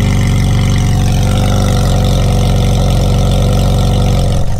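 Loud Ferrari engine idling close by at roughly 100 decibels, a steady, dense mechanical roar with a faint pulsing throb, continuous and alone.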